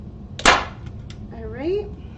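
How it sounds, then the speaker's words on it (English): A single sharp, loud staple gun snap up close, stapling a bow onto a Christmas circle door hanger, followed by a brief rustle and a soft whine-like squeak. "we're just gonna staple these in. Sorry for your eardrums."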